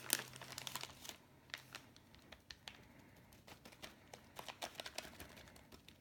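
Soft, close crinkling of a plastic bag as a folded homemade cheese quesadilla is handled, with irregular faint rustles and crackles scattered through the quiet kitchen.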